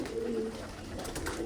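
Pigeons in a loft coo in soft, low, repeated calls, close by and steady against a faint background hiss.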